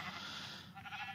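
Sheep in Minecraft let out a single drawn-out, nasal bleat that fills most of the moment and fades at the end, with no speech over it.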